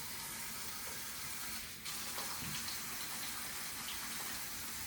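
A kitchen tap runs in a steady, full stream of water while hands are washed, with a brief dip in the flow partway through and no talking.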